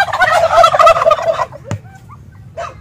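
A pet turkey gobbling up close on a farm, a loud rapid warbling burst lasting over a second, followed by quieter clucks and a short second gobble near the end.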